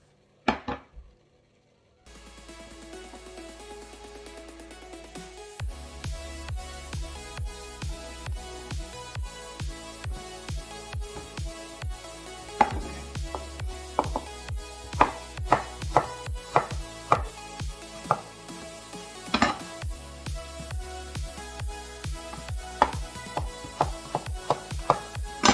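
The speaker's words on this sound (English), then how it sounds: "You can now start slicing the potatoes into chips size or fry size." Knife slicing potatoes into chip- or fry-sized pieces on a chopping board, a steady series of sharp, close cuts with uneven rhythm over a continuous low hum, no talking.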